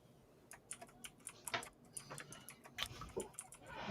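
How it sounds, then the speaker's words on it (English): Mechanical keyboard typing at a campout radio setup, a faint, irregular patter of sharp clacky keystrokes with brief pauses, quiet background and no voices. "whoever's got the awesome mechanical fucking keyboard, I love hearing that clackety clack clack clack"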